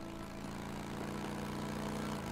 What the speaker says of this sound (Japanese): バイクの音。